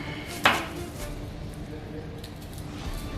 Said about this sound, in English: Just chops onion, very small piece.